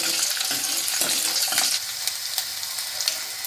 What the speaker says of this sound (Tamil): இப்போ நம்ம வெள்ளைப்பூடை போட்டுடலாம். வெள்ளைப்பூண்டை போட்டு அப்படியே லைட்டாக பொன்னிறமாக ஆகட்டும்.